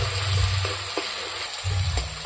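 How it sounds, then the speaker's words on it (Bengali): Cumin seeds, with nigella seeds, fry in hot oil in a pan for a light shol fish curry, giving a steady close sizzle with a few soft stirring scrapes and no voices. "জিরে ভাজা হয়ে গেছে"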